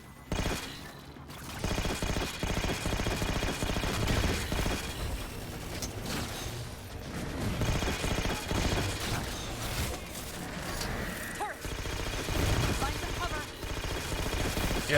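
Gunfire from Halo 4 comes in rapid automatic bursts and scattered shots during a firefight, loud and near, with a player talking over the shooting.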